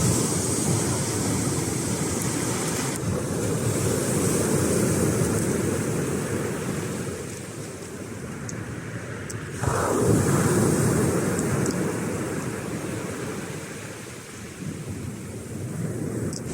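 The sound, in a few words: waves of the Antalya sea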